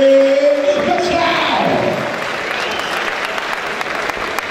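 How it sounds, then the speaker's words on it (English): A crowd at a boxing event claps and cheers loudly and steadily for the winner, with a tone or whistle fading out at the start and the applause carrying on to the end. "A big round of applause"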